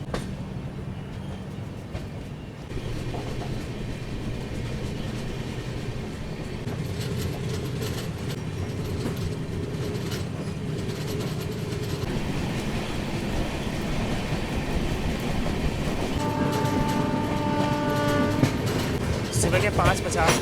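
The Vikramshila Express, a long-distance passenger train on the Sahibganj loop line, rumbles steadily on the rails from inside a third AC coach, with continuous wheel noise and a sustained horn toward the end.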